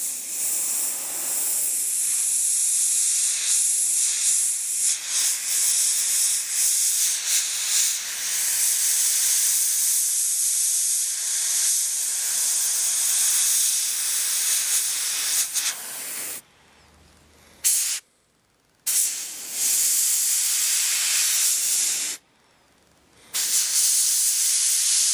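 An airbrush sprays paint along the panel lines of a model kit part, a loud, close, steady airy hiss that holds for long stretches, then cuts off abruptly several times in short bursts near the end.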